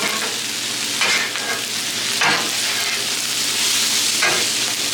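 Stir-fry with noodles cooks on a Blackstone griddle: a loud, continuous sizzle close up, broken by several sharp scraping bursts as the spatula tosses the food.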